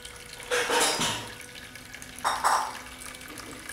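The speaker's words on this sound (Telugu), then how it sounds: "సంప్లోకి కొంత నీటిని పోస్తున్నాను" Water being poured into a household sump tank comes in two short bursts of splashing and gurgling, with a faint steady hum underneath.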